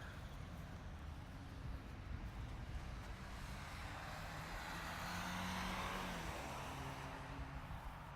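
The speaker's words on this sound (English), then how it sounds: "Sorry for the cars going by. This is kind of a busy road still." Traffic on a busy road beside a Civil War historic site makes a continuous broadband roar that swells as a vehicle passes near the middle and then fades, with no talking.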